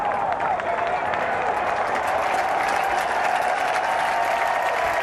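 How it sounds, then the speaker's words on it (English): A golf gallery applauds Phil Mickelson with steady, sustained clapping from a large crowd, heard from a distance and unbroken throughout. "And the applause is for Phil Mickelson"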